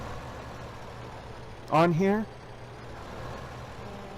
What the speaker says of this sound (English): I think it's like an 80 horsepower tractor. This thing's not struggling with this cultivator